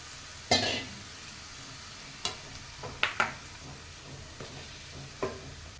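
A fresh coconut and milk mixture, with jaggery, is stirred as it cooks in a pan, giving a soft steady sizzle broken by a few scraping stirs and light clinks of a spoon against the pan.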